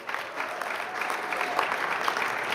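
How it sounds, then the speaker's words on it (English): A reception crowd at the US-Africa Summit applauds Secretary Blinken and the State Department, a steady wash of many hands clapping that builds slightly and continues throughout, with no voices standing out. "Please give Secretary Blinken and the State Department a round of applause."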